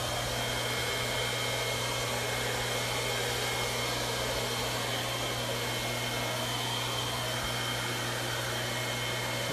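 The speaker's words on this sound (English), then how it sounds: "this is the cool button on the blow dryer." A hair dryer runs continuously with a steady, loud whooshing roar and a constant motor hum, unbroken for the whole stretch.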